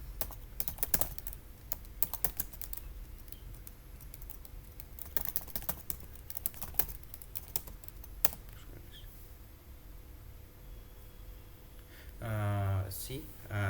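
A terminal command typed on a computer keyboard, a steady patter of close key clicks with a few sharper presses, followed by a brief stretch of speech near the end.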